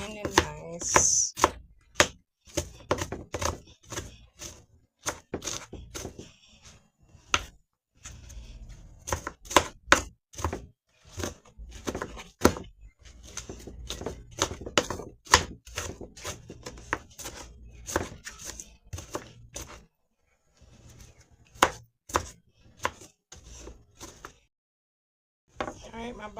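A knife finely dices vegetables for lentil stew on a cutting board, making rapid sharp close chops in quick bursts separated by short pauses, with a voice talking at times.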